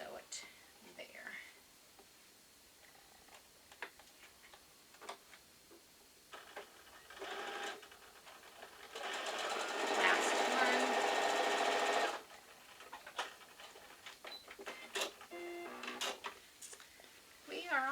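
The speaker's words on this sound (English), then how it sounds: "So I'm going to take it over to the machine. And I'm going to sew it there." A sewing machine stitching a quilt block runs in one steady whirring burst of about three seconds, fairly close, with quiet speech, handling and fabric rustles before and after.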